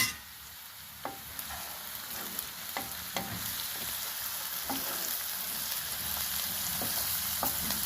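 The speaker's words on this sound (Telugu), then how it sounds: "కొద్దిగా సాల్ట్ వేస్తున్నానండి ఉల్లిపాయలు మగ్గడానికి." Onions fry with a pinch of salt in a pan for a village-style egg curry, a soft continuous sizzle punctuated by occasional spoon taps and scrapes, close and fairly quiet, no talking.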